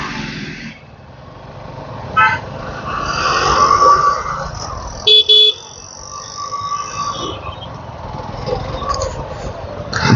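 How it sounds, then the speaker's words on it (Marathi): Road traffic on a highway drive to a home village, with a steady car engine drone and a few short, sharp horn blasts cutting through, two of them close together near the middle. "ट्रॅफिक बघा किती आहे."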